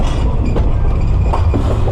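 Train arriving at Lechería station near Mexico City, a steady loud rumble of rolling wagons with faint rhythmic clicks of wheels over rail joints, close by and without talk.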